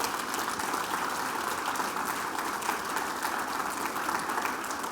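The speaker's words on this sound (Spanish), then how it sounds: "Le podemos dar un aplauso, hermoso el trabajo." An audience applauds a woman's flower arrangement, steady, even clapping from many hands filling the room without pause for the whole stretch.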